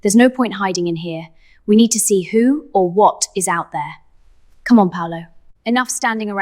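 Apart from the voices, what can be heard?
No distinct noise like a dog, phone or traffic.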